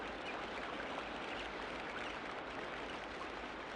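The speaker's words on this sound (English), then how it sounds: "You can hear the small water sounds, the very soft lap of the current against the low mud bank, the occasional gentle splash" Very faint, steady water sound of a slow Amazon river current softly lapping against a low mud bank at night, a continuous gentle wash with no clear splashes.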